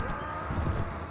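Horse hooves in Mount & Blade Warband, a quick run of soft, muffled clip-clop beats close by over a low rumble, with no talking.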